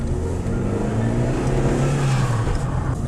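A Fiat Stilo car drives off, its engine droning steadily and rising slightly in pitch as it accelerates, close and fairly loud with road noise throughout.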